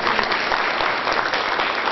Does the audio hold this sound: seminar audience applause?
yes